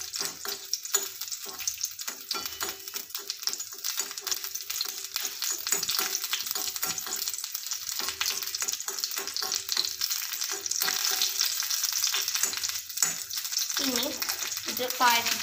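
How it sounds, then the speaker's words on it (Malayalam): Cashews and raisins fry in ghee on a hot tawa for semiya payasam, crackling and sizzling loudly up close while a spoon scrapes and stirs in quick, irregular strokes. "ഒരു തവ ചൂടാക്കി നമുക്കതിലേക്ക് നെയ്യ് ഇട്ട് കൊടുക്കാം. അതിലേക്ക് അണ്ടിപ്പരിപ്പും കിസ്മിസും ഇടാം."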